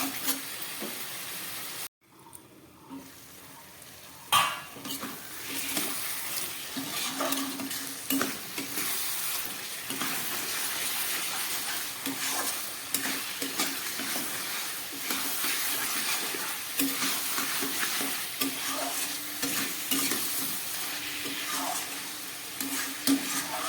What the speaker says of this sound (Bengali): গ্যাস কম করে মাংসটাকে খুব ভালোভাবে আমি কষিয়ে নিচ্ছি।